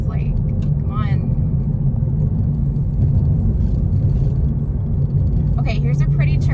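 A car rolling over a potholed country road near Peggy and Fashing, Texas, heard from inside as a steady deep rumble with road noise, broken by faint voice fragments at the start and end.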